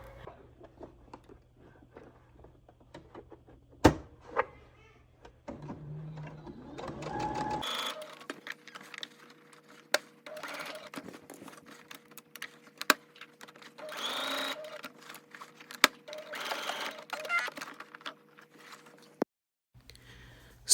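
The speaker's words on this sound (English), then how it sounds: "you're going to top stitch around the opening between the squares on both sides" A sewing machine top stitches a wrap dress in a quiet room, with short stops and starts early on and then long continuous runs of fast, even whirring and stitching, heard close and alone.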